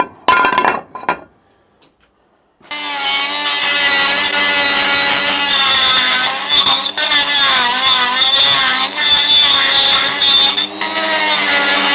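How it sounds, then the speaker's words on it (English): A power tool cuts through damaged metal on an aluminium alloy engine sump, a harsh screeching whine with shifting pitch that starts after a brief quiet and then runs loud and continuous. "Might as well cut it out to a circle"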